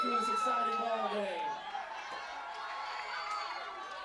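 A high school football crowd at a night game, Rancho Dominguez against Leuzinger, cheering and shouting in a broad, steady roar that eases slightly midway.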